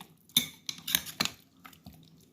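A spoon clinks and scrapes against a metal pot while vinegar is mixed into biryani ingredients, giving three or four close, sharp taps followed by softer stirring scrapes.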